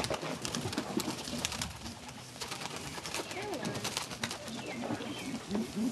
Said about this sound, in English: These doves have lived in a cage for almost a year, a bird cage, waiting for the freedom to fly again.